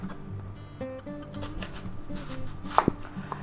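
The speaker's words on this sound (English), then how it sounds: "now let's go ahead and slice off a couple nice slices." A knife slices through vegetables for a pork sub sandwich with peppers and onions, producing a few soft, close cuts against a cutting board amid low background hum.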